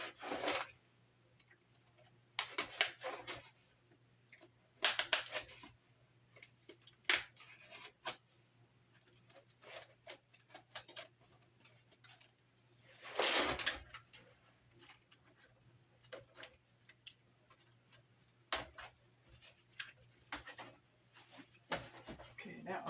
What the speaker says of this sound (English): using a really sharp little craft knife, we're going to cut this